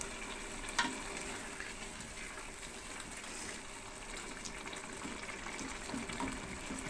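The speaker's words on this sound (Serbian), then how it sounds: "Evo, ovo se lepo krčka." A pot of open sarma simmers gently on the stove, a soft, low bubbling and faint sizzle that carries on quietly and evenly, with no voices.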